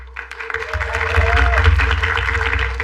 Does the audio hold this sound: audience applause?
yes